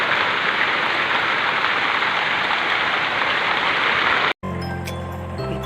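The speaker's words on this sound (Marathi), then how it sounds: "तर पावसाचा आवाज बघा किती आहे" Heavy rain falls steadily as a dense, loud hiss in a Konkan village, continuing alone for about four seconds before a brief cut to quieter sound.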